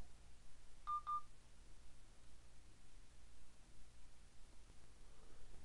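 Samsung Nexus phone placing a call by voice dial: two brief dialing tones chirp close together near the start, then only faint hiss and low room noise for the rest.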